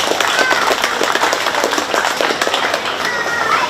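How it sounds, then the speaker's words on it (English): Crowd applause rings out at a county fair 4-H bottle calf show, a steady dense patter of many hands clapping for the young exhibitors, close and loud for the whole stretch. "I'd like to have one more round of applause for all the exhibitors for the great job they did today."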